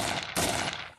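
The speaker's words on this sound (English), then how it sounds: "Okay, covering fire." Gunfire as covering fire during combat against Islamic State positions in Syria: a loud, close burst of sustained shots with a sharp attack just after the start, continuous for about a second.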